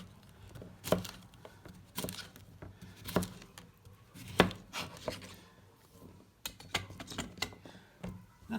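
Knife chopping zucchini into thick chunky pieces on a cutting board, a series of sharp close thuds spaced irregularly, about eight distinct strikes over the stretch with quiet handling noise between.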